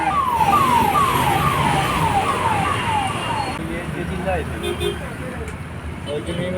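A passing ambulance siren sweeps loudly and repeatedly for the first three and a half seconds, then cuts off, leaving street traffic and faint voices from a shopping area in Honnavar.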